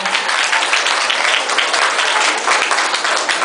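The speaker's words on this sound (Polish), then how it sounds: "A widownie poprosimy o brawa" Loud, even applause from a theatre audience at a dance and choreography nominations show fills the space, a thick continuous patter of many hands with no clear speech.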